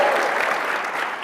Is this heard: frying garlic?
no